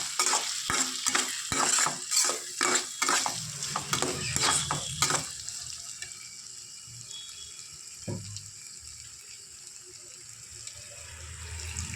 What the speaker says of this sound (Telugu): అడుగంటుతుంది, మొత్తం తిప్పుకోవాలి.